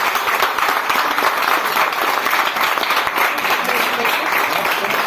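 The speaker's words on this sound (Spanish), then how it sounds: "Puede bendecir a Dios con un aplauso" A church congregation applauds continuously and evenly for several seconds, a dense wash of clapping filling the room with a few voices mixed in underneath.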